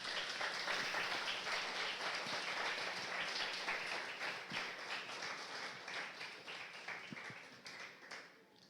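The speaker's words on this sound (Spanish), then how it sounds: "Dale un aplauso al Rey de Reyes" Congregation at a Spanish-language church sermon applauds steadily for several seconds, a dense but fairly distant wash of clapping with no talk over it, slowly tapering.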